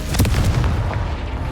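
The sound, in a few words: Confringo fire spell explosion in video game Hogwarts Legacy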